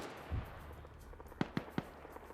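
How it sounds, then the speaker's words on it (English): Three sharp, quiet thumps fire in quick succession, far off in an Arma PvP battle. They sound like mortar rounds leaving the tube, with a faint low thud just before them. "And the mortar is now firing."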